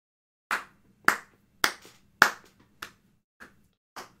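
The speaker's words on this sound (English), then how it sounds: "Add the slow clap." A slow clap sound effect, seven single hand claps spaced evenly about half a second apart, crisp and close against silence, fading slightly toward the end.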